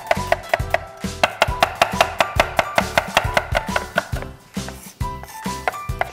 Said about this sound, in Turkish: Yarım soğanım var. Yemeklik olarak doğrayacağım.